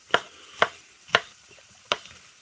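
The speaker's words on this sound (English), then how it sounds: "Chopping up my mushroom." A knife chopping mushrooms on a board for a sausage and mushroom dish: four sharp, close chops, the first three evenly spaced and the last after a short pause, with no talking.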